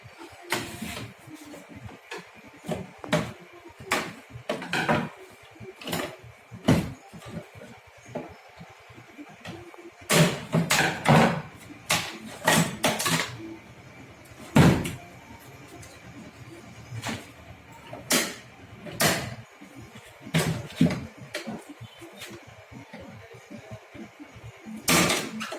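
A Canon LBP 2900B laser printer's plastic casing is pried open by hand, giving scattered sharp clicks, snaps and knocks at uneven intervals, close and fairly loud against a quiet room.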